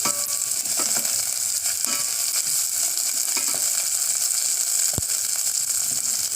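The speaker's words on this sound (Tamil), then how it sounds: "வெங்காயமும் பச்சை மிளகாய் கொஞ்சம் வதங்கிடுங்க." Onion and green chillies frying in a pan for a Tamil paruppu rasam, giving a loud, continuous crackling sizzle with a few light stirring scrapes and one sharp clack near the end.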